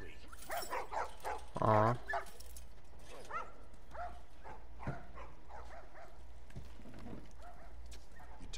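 Dogs in The Last of Us Part 2 give one loud, close bark-yelp midway, with softer yips and whimpers scattered around it over a low game ambience; a voice briefly reacts.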